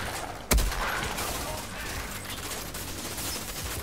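Gunfire in the video game Outriders, a sharp close shot followed by a steady rattle and mechanical clatter over a dense background.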